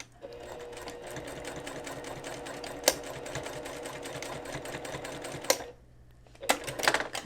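Sewing machine stitching a bar tack back and forth across both sides of a dress seam, a steady close mechanical whir running for several seconds, briefly pausing, then restarting in short bursts.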